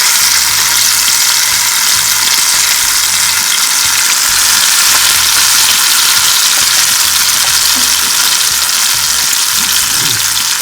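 Fish frying in hot oil with onion added to the pan, a steady broadband sizzle that runs loud and unbroken throughout with faint stirring underneath.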